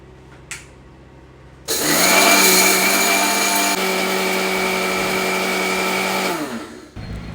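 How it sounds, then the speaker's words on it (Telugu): A mixer grinder starts up loudly after a few quiet seconds and runs steadily with a high whine grinding whole spices into powder, then winds down near the end. "వీటిని ఇప్పుడు మెత్తటి పౌడర్గా మిక్సీ పట్టుకుందాం"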